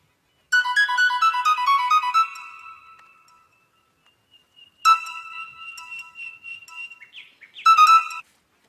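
A mobile phone rings with a melodic electronic ringtone in a domestic comedy scene, playing a bright tonal burst, pausing, then resuming in two more short bursts, clear and close.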